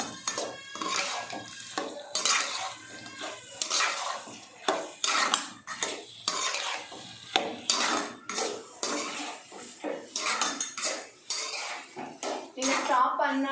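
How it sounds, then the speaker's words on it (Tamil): Fried potatoes tossed quickly through Manchurian gravy in a pan: rapid metallic scraping and clanking of a spoon against the pan in quick irregular bursts, fairly close, with a faint sizzle underneath. "ஹையில் போட்டுட்டு நல்லா ஃபாஸ்ட்டாக மிக்ஸ் பண்ணிக்கோங்க"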